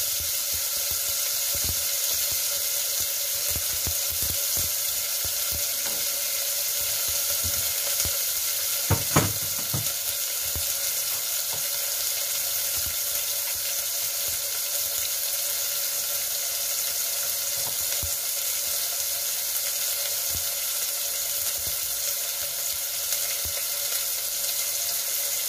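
Tomatoes and onions sautéing together in a pan for ginisang mongo: a constant, close hiss of frying, with occasional stirring clatter around the middle and no talk.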